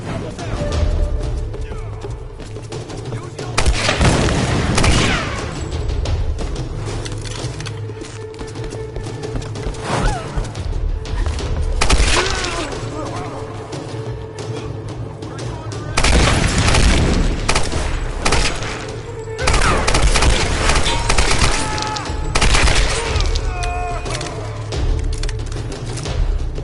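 Machine gun fire and explosions in the Tomb Raider video game: loud, sustained bursts of rapid gunfire with heavy booms that swell and fade in waves throughout, dense and close.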